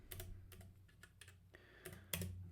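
Quiet keystrokes clatter on a computer keyboard in short irregular bursts, soft clicks bunching and pausing, with no voices.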